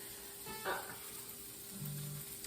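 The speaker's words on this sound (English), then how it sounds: "I'm gonna go ahead and get this onion going in the pan here" An onion sizzles in a frying pan as a faint, steady hiss, with a brief utensil clatter and a short murmur of voice.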